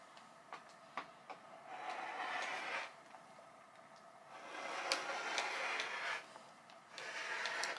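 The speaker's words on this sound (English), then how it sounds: "now I'm just going to cut along that line" A rotary cutter runs along a ruler edge through a quilt top, making soft rolling, crunching passes in slow strokes, with a few light ticks between them, all quiet and close.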